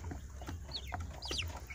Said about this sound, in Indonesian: suara ini hasil silangan ayam joper sama ayam bangkok